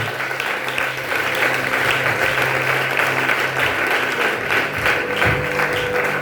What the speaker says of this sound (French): nous allons acclamer très fort pour le roi des rois